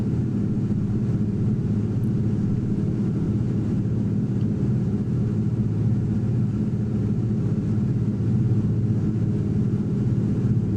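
A de Havilland Beaver's radial piston engine in a flight simulator, a loud, steady low droning rumble that holds unchanged throughout with no pauses and no voices.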